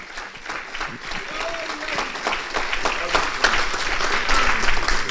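A church congregation clapping hands in rhythm, steady repeated claps that build in loudness, with voices mixed in underneath.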